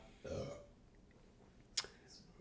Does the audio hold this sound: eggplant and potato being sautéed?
no